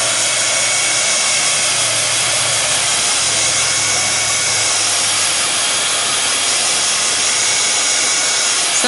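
A hair dryer runs steadily to dry paint on an artwork, a loud close continuous whirring blow that holds an even pitch throughout, with no talk.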